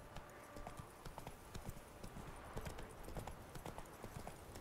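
Galloping horse hooves in The Witcher 3 game, a steady rapid clip-clop close by and fairly loud, continuing through the whole stretch with faint ambient background.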